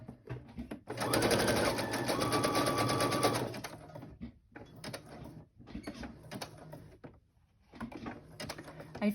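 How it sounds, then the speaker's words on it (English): A sewing machine runs a zigzag stitch around a paper tag on an envelope pocket, a close mechanical whirring burst for a few seconds, then shorter stop-start runs with brief pauses between them. "we're going to sew around this one also"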